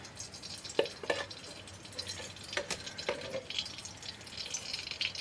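Ghee goes into a hot pan while a pumpkin dish cooks, giving a soft, steady sizzle with scattered clinks and scrapes of stirring, fairly close and quiet, with no talking.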